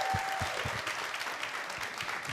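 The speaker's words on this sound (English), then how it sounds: "Can we give a giant round of applause to Craig Wilburn?" Audience applause at a real estate masterclass session in Orlando, a steady, dense clapping from a large crowd that fills the whole moment with no one speaking over it.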